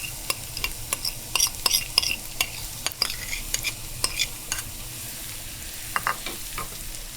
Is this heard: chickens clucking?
no